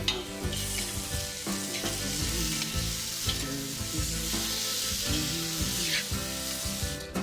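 Noodles fry and sizzle in a pan with soy or Worcestershire sauce. A dense, steady crackle runs throughout, close and loud, broken by repeated thumps and scrapes of stirring.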